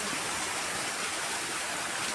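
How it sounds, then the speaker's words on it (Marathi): Heavy rain and fast-flowing floodwater make a dense, steady rushing roar that stays constant and loud throughout the short stretch, with no voices. "काय पाऊस आहे बापरे"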